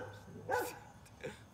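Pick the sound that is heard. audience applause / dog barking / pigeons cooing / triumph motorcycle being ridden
dog barking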